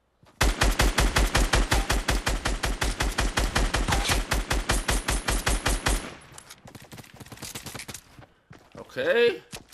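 Rapid pistol fire in a Fortnite solo match; a long, loud, evenly spaced string of close shots for about six seconds, followed by scattered quieter game effects and a brief voice near the end.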